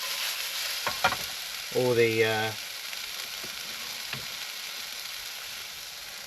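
Chopped vegetables frying in a pan at an outdoor van camp, a steady close hiss and sizzle throughout, with a brief spoken word near the start.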